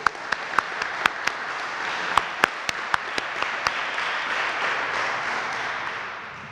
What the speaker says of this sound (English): if you guys give a round of applause for our audio video crew